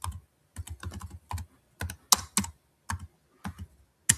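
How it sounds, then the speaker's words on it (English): Keys clatter on a computer keyboard in quick close bursts of typing, separated by brief pauses, with no talking over them. "We can hear you typing."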